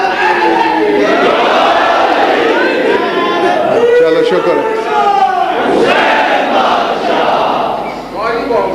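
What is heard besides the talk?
crowd shouting religious slogans at a majlis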